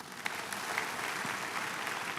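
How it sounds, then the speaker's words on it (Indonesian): Church congregation applauding during a worship service, a steady wash of many hands clapping at moderate distance, filling the whole stretch without talk. "Nah, untuk ini tepuk tangan untuk Tuhan."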